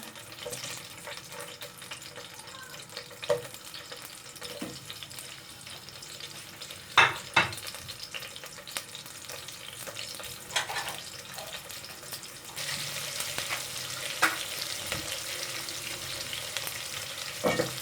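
Chopped onions frying in oil in a pan with whole spices for aloo matar pulao, a steady crackling sizzle with occasional stirring clinks, growing brighter and louder in the second half.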